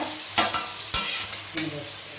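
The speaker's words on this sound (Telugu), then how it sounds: "ఇప్పుడు ఈ ఉల్లిపాయలలో నెమ్మదిగా ఈ చికెన్ వేసుకోవాలి." Chicken going into fried onions in a pan, with a steady sizzle and three or four distinct scraping thuds as the pieces are pushed around, close and without talk.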